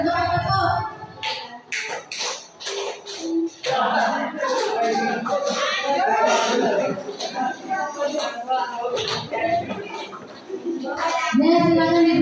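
A group of people claps hands while walking around in a circle, producing uneven bursts of clapping mixed with shuffling footsteps and chatter, fairly close, with pauses between bursts.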